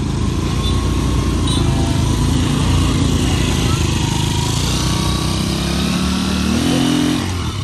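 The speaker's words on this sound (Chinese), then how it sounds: "我第一次看到三轮车还有倒档" A motorized three-wheeler carrying bricks reverses on a city street in Ho Chi Minh City, its engine droning loud and close throughout. The pitch shifts slightly near the end, and talk can be heard over the engine.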